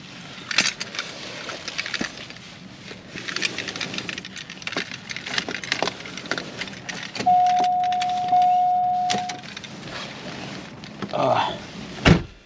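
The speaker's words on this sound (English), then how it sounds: "let me put the keys away" Car keys for a 2006 car jangle and clink in short bursts as they are put away, with a brief scrape and a thud toward the end, close by in a quiet room.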